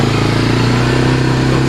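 A small vehicle's engine runs steadily on a quick loop around a property, a loud, close, continuous motor drone with a low pulsing hum and no talking.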